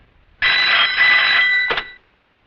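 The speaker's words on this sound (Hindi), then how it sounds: "जरा शिर्के को फोन लगा" An electronic telephone bell rings in a police station office, one continuous trill of about a second and a half with a brief second burst, loud and close with no talk over it.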